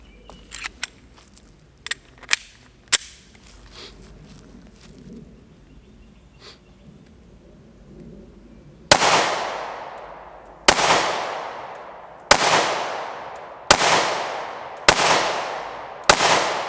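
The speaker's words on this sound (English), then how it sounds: "Now I am going to shoot my other gun, my 40 cal" A .40 caliber pistol fires six loud, sharp shots outdoors at a steady pace, each crack trailing into a short echo. Before the shots come a few lighter clicks and taps, and no one speaks.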